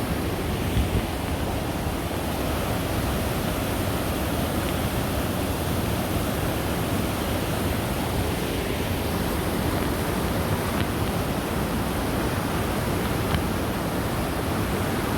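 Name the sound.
raging creek water rushing under a bridge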